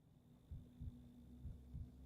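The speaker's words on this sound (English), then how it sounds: "Okay, heartbeat is fine." A steady double-thump heartbeat heard during a medical examination in a video game, four low soft beats in an even rhythm over a constant low hum, close and fairly quiet.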